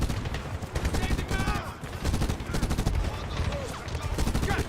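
An M24 rifle fires in quick, dense bursts during a Medal of Honor game match, the rapid reports loud and overlapping with other battle noise throughout.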